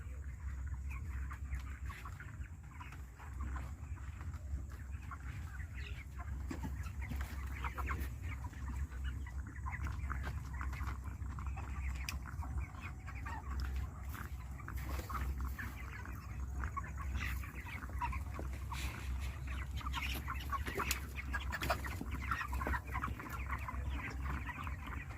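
Chickens cluck softly and continuously inside a poultry farm shed holding about 2,200 birds, a faint, busy murmur of hens with no voices standing out.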